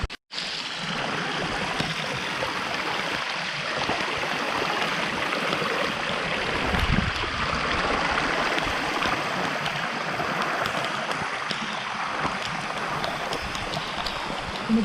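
A rainwater stream swollen by the first monsoon rain in the Konkan countryside rushes past in a continuous, full hiss of flowing water, close and unchanging, with a brief dip right at the start.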